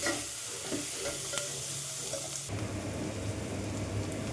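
Onion with a little salt fries in a pan toward golden brown, a close, even sizzle that thickens into a denser hiss partway through, with occasional stirring.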